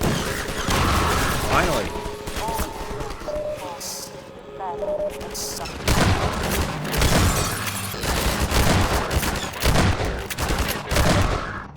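Shotgun blasts in Half-Life 2 ring out as loud, sharp bursts in a quick irregular series, mixed with game noise and a voice talking over the action.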